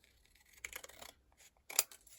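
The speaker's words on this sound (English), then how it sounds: "And now I'm just going to trim" Paper card for a Christmas flip card is trimmed with a quiet cut or two followed by one sharper snip, faint and close, no speech.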